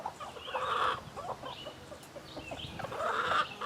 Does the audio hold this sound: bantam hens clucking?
yes